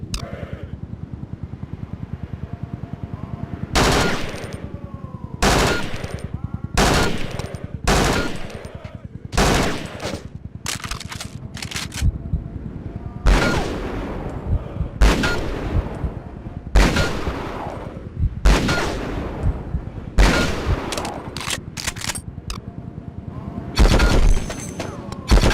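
Rifle and machine-gun fire on a military training range in Conflict: Desert Storm II, loud repeated bursts and single shots of close gunfire in irregular volleys, continuing throughout with no talk over it.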